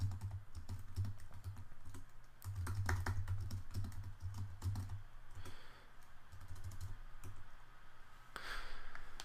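Fingers type on a computer keyboard while editing Swift code, giving quiet, irregular clusters of close key clicks with short pauses between bursts.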